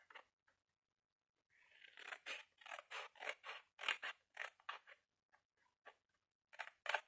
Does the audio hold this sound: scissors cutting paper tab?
yes